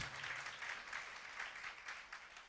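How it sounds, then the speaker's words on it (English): Audience applause at a school annual day show put on by second-grade students, a steady broadband clatter of many hands filling the hall and holding at an even level throughout. "Let us give a huge round of applause to everyone, those who worked in this event."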